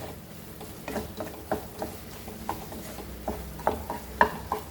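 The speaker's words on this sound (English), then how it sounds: "Fry this till it is nicely done on low flame." Mutton brain stirred in a pan over a low flame for bheja bhurji fry, with soft irregular scraping and light sizzle, quiet and close, no talking.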